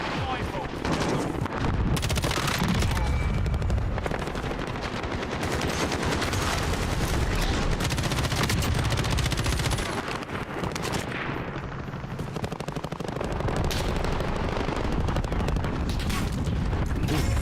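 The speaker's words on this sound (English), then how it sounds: "Shots to the right too." Gunfire in a video game during a live stream, dense and continuous with booming bursts throughout, mixed with other game noise and some talk.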